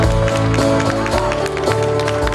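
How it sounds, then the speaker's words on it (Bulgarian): A crowd at a GERB political party rally in Bulgaria applauds loudly and continuously, with dense clapping mixed with music and voices. "Аплодисменти!"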